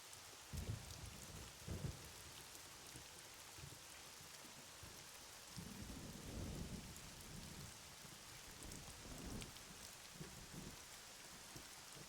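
Steady rain pours in AI: The Somnium Files while low thunder rumbles roll in several times, the deep swells rising and fading beneath the constant hiss, with no voices.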